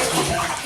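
Water sloshing and splashing in a bathtub, a brief, close, continuous wash of noise.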